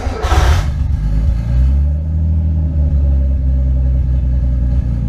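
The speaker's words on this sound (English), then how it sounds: "car starts right up and runs, no problem" A Nissan 240SX S13 engine cranks briefly, then catches and settles into a steady, rumbling idle nearby, loud and even with no talking.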